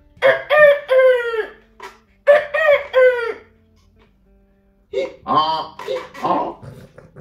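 During a game of miming French expressions, a person vocally imitates a rooster, with two loud cock-a-doodle-doo crows followed by softer clucking, squawking calls, close and in a quiet room.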